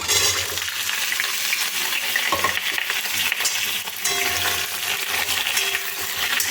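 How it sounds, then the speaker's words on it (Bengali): Pumpkin pieces frying in hot oil, a loud continuous sizzle with spatula scrapes and stirring clatter up close, no voices. "তেলটা গরম হয়ে এসেছে এবার কেটে রাখা কুমড়োগুলো সব দিয়ে দেবো"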